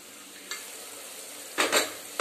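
Tomatoes sautéed for tomato rice, a soft quiet sizzle in the pan broken by a few brief clatters of a spoon against the vessel near the end.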